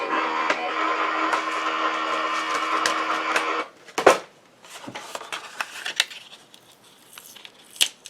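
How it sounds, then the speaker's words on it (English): A die cutting machine runs steadily for a few seconds as it scores fold lines into card, then stops, followed by scattered clicks, rustles and handling noises. "I'm going over to my die cutting machine"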